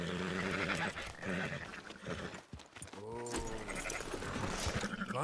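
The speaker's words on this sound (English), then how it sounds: "Fine sheep." Sheep bleating in Red Dead Redemption 2, several drawn-out wavering calls close by over a busy background of livestock, hooves and faint talk.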